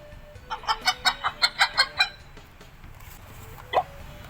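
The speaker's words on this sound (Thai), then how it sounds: "hen," A hen clucks in a fast run of about nine short, rhythmic clucks, then falls quiet before one last higher cluck, heard close and fairly soft.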